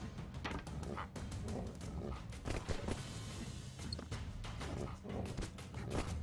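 A dog barks, yips and whimpers in the side-scrolling action game Broforce, the calls rising out of a dense, steady wash of game sound effects and gunfire-like bursts.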